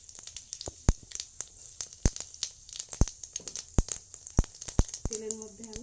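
Sugar and whole cumin seeds dropped into hot oil crackle and sizzle with dense, irregular pops and spits. A brief tonal sound rises near the end.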